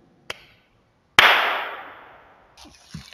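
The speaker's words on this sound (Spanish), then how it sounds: "se escucha el eco. Miren, voy a hacer un pequeño aplauso y para que vean cómo se escucha." A single hand clap rings out inside an empty chapel in an abandoned historic cemetery in Xalapa, followed by a long fading echo, preceded by a faint tap and followed by small shuffling noises.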